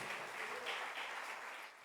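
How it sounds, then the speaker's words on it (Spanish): A congregation claps steadily in church in praise, a soft, even patter from a distance that tapers off at the end. "denle palmas de alabanza al Señor"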